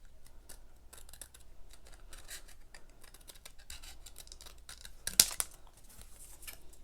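Soft, quiet snips of scissors cutting through printed paper for card making, with one sharper, louder cut near the end.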